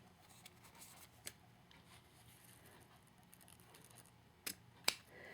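Quiet, close snips of scissors trimming ribbon tails during a crafting session, a single cut early on, then two sharper snips in quick succession near the end over faint room noise.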